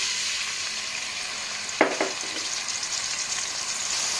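Chopped onions hit hot oil in a kadai, setting off a bright, close sizzle that holds steady, broken by a couple of sharp clanks of a ladle against the pan.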